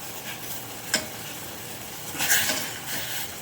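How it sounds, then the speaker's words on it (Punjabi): A spoon stirs milky kulfi mixture in a pan over high flame, giving a steady soft scraping hiss with a couple of light clinks against the metal. "ਚੰਗੀ ਤਰ੍ਹਾਂ ਚਮਚੇ ਨਾਲ ਹਿਲਾਉਂਦੇ ਰਹਿਣਾ ਇਹਨੂੰ"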